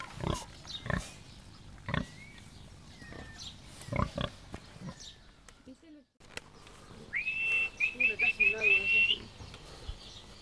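Pigs on a farm in Neuquén, Argentina, grunt in short bursts. Bird-like whistles and chirps mix in over the second half, with talk nearby.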